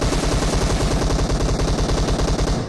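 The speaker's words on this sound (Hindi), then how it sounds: "लेकिन कोई पीछे आ गया, गोली चलाता है" Rapid, sustained automatic gunfire in a battle royale video game, a loud continuous burst of evenly spaced shots running almost the whole time.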